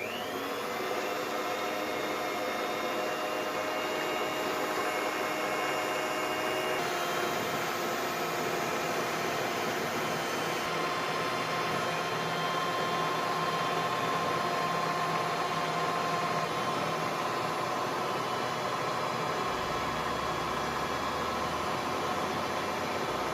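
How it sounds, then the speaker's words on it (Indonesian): Electric hand mixer beating 250 grams of granulated sugar until it dissolves, a steady loud motor whir with a continuous high hum that holds level throughout, no voices. "Lalu kita mixer ya sampai gulanya larut."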